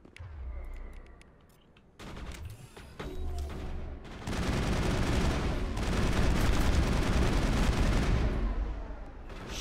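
Pistol gunfire in the video game Mass Effect, with sharp shots giving way to dense, sustained bursts of rapid firing and impacts, loud and continuous through most of the stretch.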